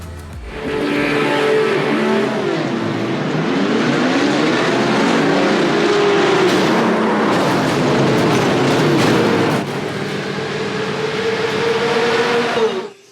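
Race cars scream around a track in the iRacing simulator, engines droning loud and continuous with pitch sweeping up and down through gear changes, then dropping abruptly before resuming.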